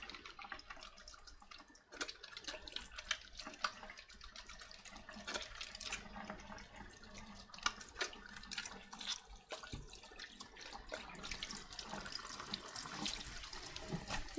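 Kitchen faucet water running steadily while hands are rinsed under it during chicken stir-fry prep, a continuous splashing rush with small drips and clatters, close and fairly quiet.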